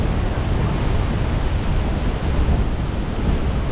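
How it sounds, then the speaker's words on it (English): Water pouring down a roadside waterfall near Arenal Volcano in Costa Rica, a steady, loud, broadband rush that stays constant throughout with no voices. "We spotted another waterfall right on the road and just had to check it out."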